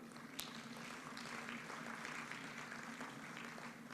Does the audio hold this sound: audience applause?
yes